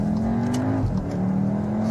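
A Volkswagen Tiguan R, a fast family SUV, accelerates hard on a dual carriageway, its engine note climbing in a steady loud whine inside the cabin, with a brief dip as it shifts gear before rising again.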